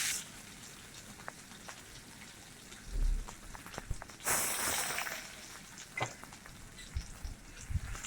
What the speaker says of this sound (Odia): ପିଆଜକୁ ଭାଜିବା ଲାଲ ହେବା ପର୍ଯ୍ୟନ୍ତ।